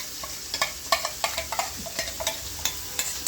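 Ground spices, including nut paste, nutmeg, mace, ginger, cumin and chili powder, fry in a pan with a crackling sizzle, while a spoon scrapes and clinks in quick, irregular strokes.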